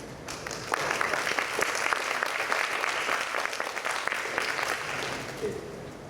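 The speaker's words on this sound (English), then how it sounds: "So, round of applause to Kiwok." A hall audience at an annual general meeting breaks into applause, a steady burst of many hands clapping that swells after a moment, holds for several seconds and then tapers off.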